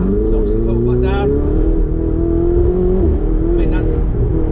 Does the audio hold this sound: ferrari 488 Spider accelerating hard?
yes